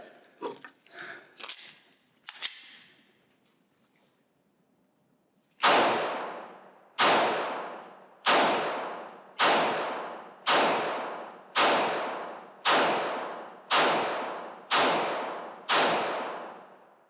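Glock Gen 5 and Gen 6 pistols firing at an outdoor shooting range: ten loud, evenly spaced shots close by, each with a ringing decay, after a brief burst of handling clatter and a few seconds of quiet.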